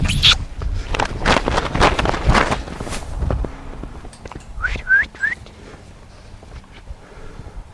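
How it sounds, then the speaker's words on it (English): A trainer whistles to cue Silver, a wild mustang, to turn inward: three short rising whistles in quick succession, clear and close, after earlier scuffing footsteps and hoof or movement noise. "I whistle when I want them to turn into me and change directions"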